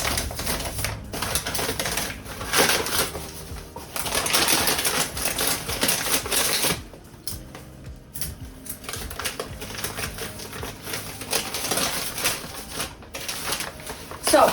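Paper rustling and crinkling as it is wrapped around fabric being rolled for steam setting hapazome leaf prints, with soft, irregular tapping and crackling bursts close by, pausing briefly midway.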